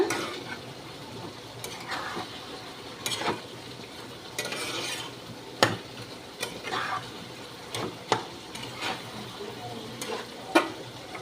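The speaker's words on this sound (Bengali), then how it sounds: "এবারে তো জোরে জোরে ফুটছে পালং শাকটা" Spinach cooked with spices bubbles vigorously in a pot, a continuous close simmering hiss broken by frequent sharp pops and clicks.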